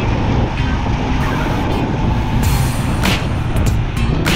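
Traffic of tricycles in General Santos (Jensan) rumbles past in a loud, continuous engine roar and road noise, with a few hissy bursts and mechanical clatter close by.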